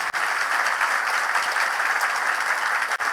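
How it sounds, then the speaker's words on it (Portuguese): Steady, dense applause from an audience at a police science academy's inaugural training class ceremony, continuous and fairly loud for the whole stretch with no voices over it. "Uma salva de palmas aos 3."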